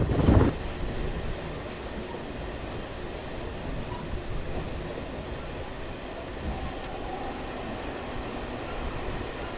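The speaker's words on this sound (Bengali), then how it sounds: "এই পাঁচটা চল্লিশে ঝাড়গ্রাম মেমুটা ধরলাম" A Jhargram MEMU passenger train runs steadily along the line from Santragachi, a low, even rumble of wheels and carriage noise heard from inside, with a brief louder knock at the very start.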